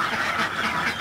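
A flock of egg-laying ducks, a local Indonesian solo breed, kept in a group with drakes, makes a dense continuous chorus of quacking and honking calls that fills the whole second at close range, with no talk.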